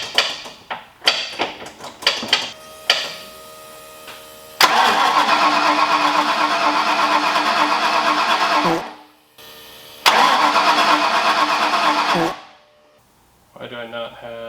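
A freshly rebuilt Foxbody engine cranks in several short bursts, then catches and runs loudly for a few seconds, cuts out, restarts briefly and dies again; a voice speaks near the start.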